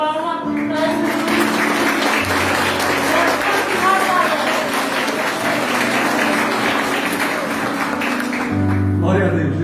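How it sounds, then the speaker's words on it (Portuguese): A church congregation applauds during a Santa Ceia worship service, loud continuous clapping mixed with voices and sustained musical tones from instruments beneath. "Uma forte salva de palmas para esse juiz"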